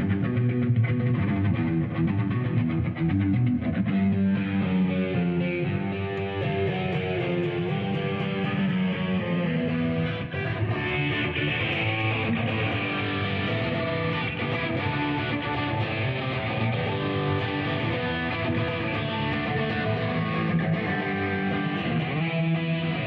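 Electric guitar played through a profiled Mesa amp on its channel 2, a continuous overdriven tone with sustained chords and melodic lines at steady loudness.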